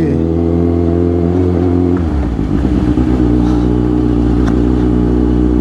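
A vehicle stuck in thick mud revs loudly and continuously, its engine note dipping and surging as the wheels slip, close and dominant throughout.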